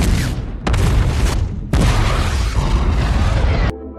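Robot Eureka blows up in the film Pacific Rim, a loud sustained explosive roar with several sharp bursts and rumbling that cuts off abruptly near the end.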